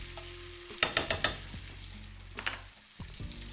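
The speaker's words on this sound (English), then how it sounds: "The minute I add these vegetables to the pan, I turn the heat up." Vegetables frying in a hot pan while a fork stirs them, a soft steady sizzle broken by a quick run of four clinking taps and a few later knocks.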